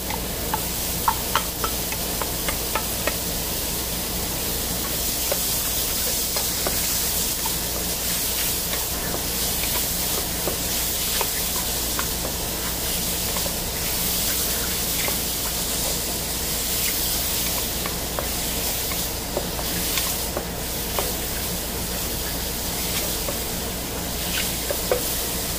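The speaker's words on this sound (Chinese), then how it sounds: "现在蘑菇已经开始慢慢变色了，炒，然后再加入第二批蒜" Mushrooms stir-fry with garlic in a hot pan, giving a steady sizzle and hiss with scattered crackles and occasional spatula scrapes throughout.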